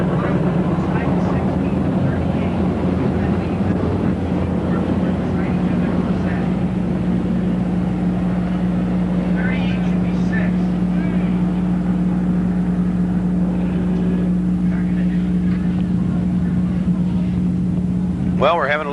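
Modified race cars idle and rumble in a steady, continuous drone while lining up at Merrittville Speedway, with voices talking over the engine noise throughout.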